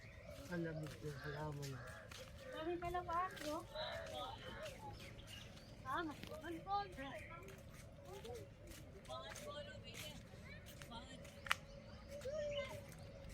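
Mixed birds call at Mushrif Park in Mirdif, Dubai, with crow-like caws and scattered chirps coming and going at moderate distance while people talk nearby.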